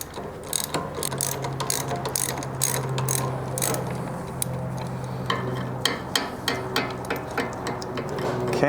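A ratchet works loose an 18 mm outer bolt on the front lower control arm of a 2009-2015 Audi A4 B8, giving rapid close clicking bursts over a steady mechanical hum.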